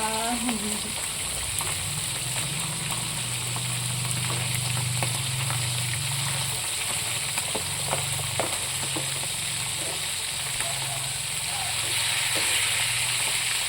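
Fish sizzles steadily in hot oil in a pan, a continuous close frying hiss with small crackles and pops throughout.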